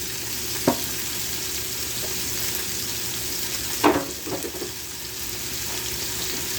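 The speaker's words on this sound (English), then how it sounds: "in here I have them frozen veggies, my tomatoes. Just throw them right in there" Frozen vegetables and tomatoes hit a hot frying pan, setting off a continuous close sizzle with a few soft clunks and stirring knocks, and no speech.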